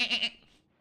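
A single short bleat from a sheep in the Noita video game, where the player has been polymorphed into a sheep, rising and falling in a quick wavering burst, then fading to quiet.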